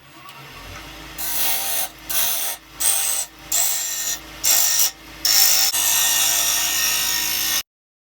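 A wood lathe turns a tenon on the bottom of a Viking-style wooden bowl blank. Loud, close whooshing cuts come in about six bursts separated by short gaps, then one long sustained cut.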